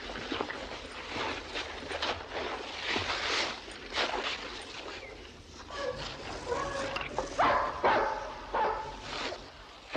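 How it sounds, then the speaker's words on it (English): Hunting dogs bark repeatedly in a Louisiana swamp. The fairly loud, yapping barks overlap and come over a steady outdoor background hiss, with occasional whimpers and no talking. "Dogs, man, what you think? It's hunting dogs."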